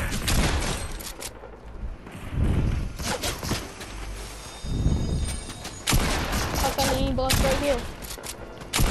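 Fortnite gunfire, repeated bursts of shots and heavy booms scattered across the stretch, loud and close, with voices heard between the shots.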